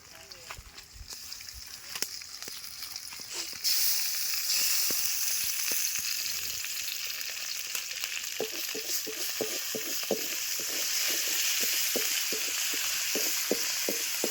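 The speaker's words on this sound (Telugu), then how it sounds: "మనం అయితే ఇప్పుడు అల్లం తెల్లుల్లి పేస్ట్ అయితే వేసుకుందాం" Ginger garlic paste added to browned onions sizzles steadily in a pan, with rhythmic scraping stir strokes in the second half and some faint talk early on, at an outdoor picnic.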